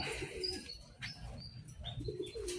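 Birds call and chirp in short bursts, with soft cooing of pigeons mixed in, against a continuous outdoor hum.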